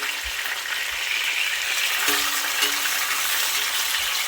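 Fish for Jamaican-style stew fish sizzles and fries in oil in a pot, a steady loud hiss with a few faint clinks as pieces are turned over, no talking.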